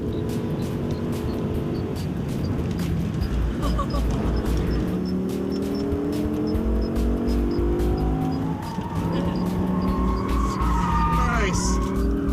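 A BMW Ring Taxi laps the Nurburgring, its engine climbing and dropping through repeated gear changes. The loud cabin roar is broken by brief tire squeals near the end.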